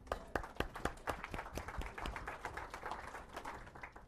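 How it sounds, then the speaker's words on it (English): Sparse audience clapping after a panel introduction at a Palestine Center annual conference: a modest group of distinct, sharp handclaps, some individually audible, fairly quiet and distant, tapering slightly toward the end. "Give them a clap."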